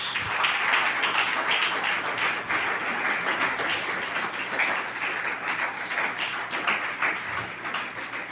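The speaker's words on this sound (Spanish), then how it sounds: "Denle un fuerte aplauso a Jesús" A church congregation claps loudly for Jesus, a continuous crackle of many hands with uneven pulses and swells, sustained without speech over it.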